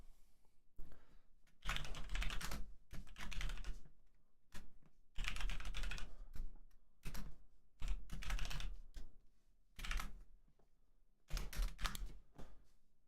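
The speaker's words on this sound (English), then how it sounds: "just so the keyboard doesn't clicky clack ruin everybody's eardrums" Someone types on a computer keyboard in bursts of rapid clicky keystrokes, each flurry separated by short pauses. The keys sound close but fairly quiet, with no voices.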